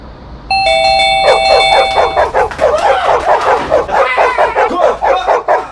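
A doorbell chimes loudly at the start, then a dog barks repeatedly and excitedly close by for several seconds.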